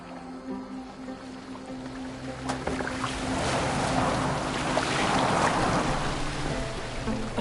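A boat moves across water in a PS4 game, its hull wash building from a soft swish into a louder continuous rush over a low steady hum.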